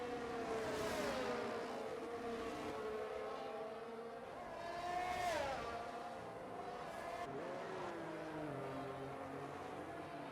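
Race cars in a Bahrain Grand Prix racing video game lap the circuit, engines whining with rising and falling pitch sweeps as cars pass and shift, layered and continuous at moderate level.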